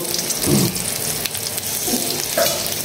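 Chopped onion hits hot oil in a pan ahead of cooking three prawns with dried chillies, giving a steady close sizzle with a few brief stirring bursts and no talking.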